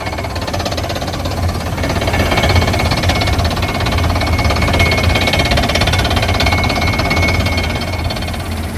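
A well-drilling machine engine runs loud and steady close by during groundwater drilling for farming, a continuous knocking, hammering drone with no breaks.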